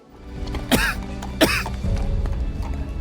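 A man coughs in an audio drama sound effect: two sharp, harsh coughs less than a second apart, close and clear over a quiet, steady background, followed by faint shuffling.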